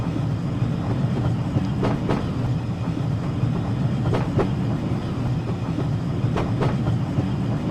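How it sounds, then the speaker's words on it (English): A train running on the rails of the Woodhead line, with steady rolling rumble and periodic clickety-clack wheel beats over rail joints, heard close from on board with no talk. "listen to the sounds the train's making"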